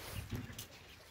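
Hens clucking in a backyard coop, one bird heard in a short burst of low, close clucks over faint ambient noise.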